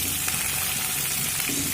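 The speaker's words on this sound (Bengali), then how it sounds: "দেখুন, একই তেলের মধ্যে আমি ফুলকপিগুলো ভেজে নেব।" Salt-soaked cauliflower florets frying in hot oil in a pan, a loud, dense, continuous close-up sizzle with no break.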